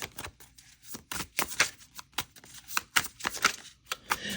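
Tarot cards being shuffled, a run of crisp riffling bursts and sharp flicks in an irregular rhythm, close and fairly quiet with no talking.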